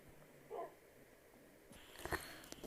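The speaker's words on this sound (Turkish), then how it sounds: "neden her zaman havlıyorsun be?" A dog gives a short bark early on, then a sharper cluster of barks and yips near the end, at moderate distance in a quiet room.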